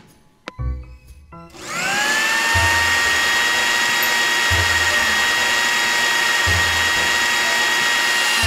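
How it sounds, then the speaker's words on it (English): A blender whirs as it purees diced watermelon, carrot, mango and avocado for juice, starting after a few soft clicks and then running as a loud, steady, high-pitched motor whine to the end. "them in a blender to get the juices"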